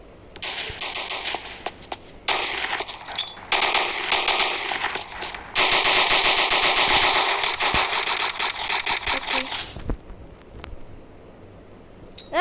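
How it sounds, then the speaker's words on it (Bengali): Rapid sustained machine gun fire in the KUBOOM war video game comes in loud dense bursts with short breaks, then one long continuous stretch that cuts off near the end. "দিয়ে আমি ইউজ করবো আমার মেশিন গান"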